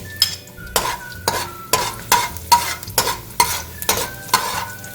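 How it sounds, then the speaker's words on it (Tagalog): Garlic sautéing in a pan for pork sari-sari, with bursts of sizzling and repeated stirring scrapes of a utensil in an uneven rhythm, close and fairly loud, with no talking. "in your pan, your cooking utensil, you gisa the garlic"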